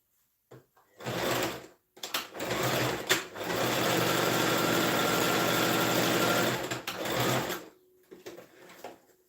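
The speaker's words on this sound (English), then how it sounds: "I'll stitch it down." A sewing machine stitches down fabric on a kid's shirt, running in short bursts at first, then a long, steady whirring run before slowing with a few final stops, close and clear with no talk.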